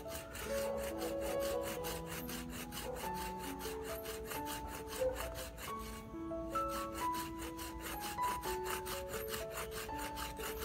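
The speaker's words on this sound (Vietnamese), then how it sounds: "Cưa có vẻ hơi cù." A hand saw rasps through wood in quick, steady back-and-forth strokes, close up, with a brief pause partway through.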